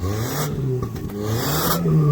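A car stuck in heavy snow in Moscow revs its engine loud and close, the pitch rising and falling in a strained whine with a scraping edge.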